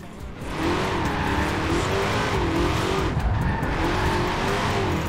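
Mustang Shelby GT500 on racing tires drifting in Forza Horizon 4, its engine note wavering up and down under a continuous, loud tire squeal that runs without a break and without talk.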